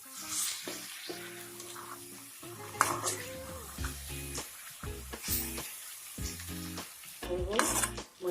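Pork pieces frying in a pan with ginger and garlic for an Assamese pork dish, stirred as they cook, giving a steady close sizzle with scraping and stirring bursts over a tonal background.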